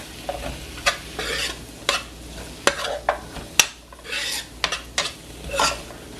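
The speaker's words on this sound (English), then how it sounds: "So now I'm going to add the carrots." Carrots tumbling into a pot of Dominican fish broth, a string of bright clinks and scrapes from a spoon stirring against the pot, close and steady at a moderate level, with no one speaking.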